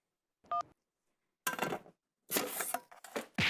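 A single short telephone dialing tone beeps once, then after a pause come several bursts of clattering, rustling handling noise close by.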